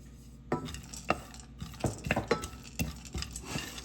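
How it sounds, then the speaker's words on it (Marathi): Dry fruits stirred and roasted in ghee in a pot for rice kheer, a spoon scraping and knocking against the metal in quick irregular strokes over a faint sizzle. "भांड्यामध्ये थोडंसं तूप टाकलंय आणि आता यामध्ये हे ड्रायफ्रुट्स घालून घेते"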